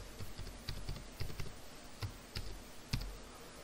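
A password is typed on a computer keyboard as a sparse, irregular series of soft key taps heard close over a low background hum.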